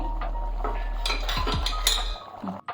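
A spoon scrapes and clinks against a metal pot while tempering is stirred into soppina saru, a series of close, bright metallic knocks and rattles over a low steady hum that cuts out near the end.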